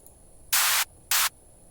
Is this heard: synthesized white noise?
yes